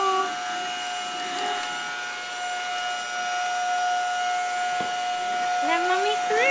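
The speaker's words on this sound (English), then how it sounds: "Come get the vacuum." A steady mechanical whir with a high tonal whine runs throughout, with faint talk in the background.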